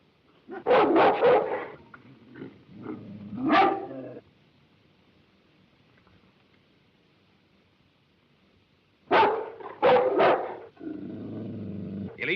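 A dog barks and growls in short close bursts in a rugged outdoor adventure setting, with a long quiet gap between the groups of barks.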